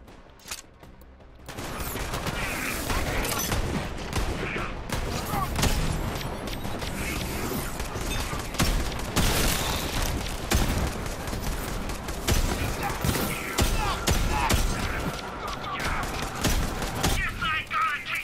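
Rapid gunfire bursts and explosions in Borderlands 3, dense volleys of shots with mechanical clanks, continuous and loud, with a voice talking over the fighting.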